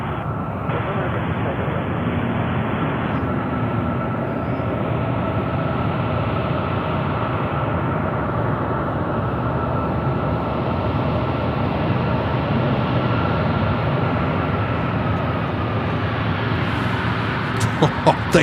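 An airliner arriving from Pittsburgh lands at Charlotte airport and applies reverse thrust, producing a continuous broad engine roar that holds steady for the whole stretch, with speech present in the background.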